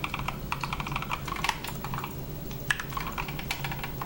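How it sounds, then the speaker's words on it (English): Someone types on a finicky computer keyboard in a brisk, uneven run of close, crisp key clicks with a few sharper taps and no talking. "This keyboard's very finicky"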